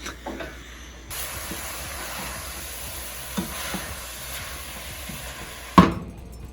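Chopped vegetables sweating in a hot pot for shepherd's pie, a steady soft sizzle and hiss of steam running for several seconds, with a brief clatter near the end and no talking.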